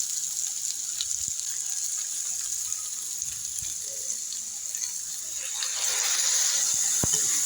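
Spices frying in a pan while being stirred and sautéed for a dried fish (shutki) curry, a steady hissing sizzle throughout, swelling louder toward the end with a brief sharp clack.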